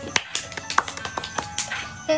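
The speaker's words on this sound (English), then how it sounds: "about a round of applause" Scattered hand claps ring out at a live show, a few sharp, uneven claps spaced apart at moderate volume, with voices mixed faintly underneath.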